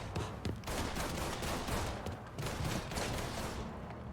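Sustained video-game gunfire fills the stretch, dense overlapping automatic bursts and shots blending into a loud, continuous barrage.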